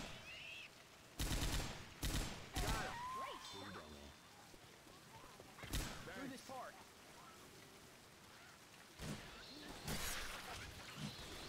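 Assault rifle fire in Left 4 Dead 2: several short, sharp bursts of automatic shots separated by quieter stretches of game noise and chatter, the bursts loud and close.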